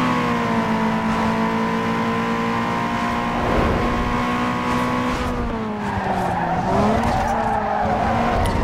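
A car drifts in Need for Speed Underground 2 with loud sustained tire skidding over a steady engine drone, the pitch dipping and wavering midway as the slide continues, close and uninterrupted with no talk.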